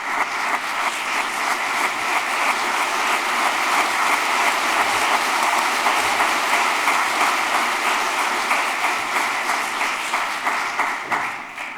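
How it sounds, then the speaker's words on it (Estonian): A hall full of people applauds at a college graduation ceremony, a thick, continuous roar of clapping that holds steady for about twelve seconds before easing slightly at the end. "Teeme ühe marulise aplausi sellele hitsale, et nad on olnud meie vastu nii head ja toetajad."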